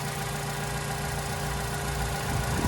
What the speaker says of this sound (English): I can hear the injectors